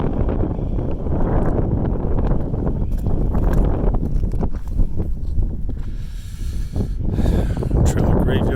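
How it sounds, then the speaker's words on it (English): Strong winter wind gusting outdoors on the North Dakota plains, a loud continuous roar buffeting the microphone with shifting rumble and occasional rustle, steady throughout. "So the wind is blowing. It's actually blowing pretty strong."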